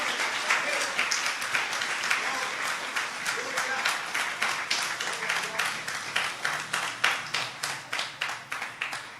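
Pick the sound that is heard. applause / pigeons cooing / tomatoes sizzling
applause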